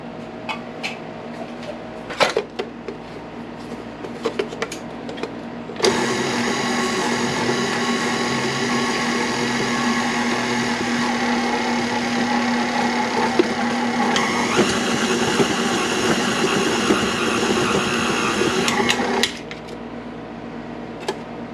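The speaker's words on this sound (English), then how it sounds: "we are going to go ahead and start mixing Start on very low" Electric mixer beating keto cookie dough on low speed, a steady motor whir that starts abruptly after a few quiet clunks, runs continuously for about thirteen seconds, then cuts off, near and fairly loud.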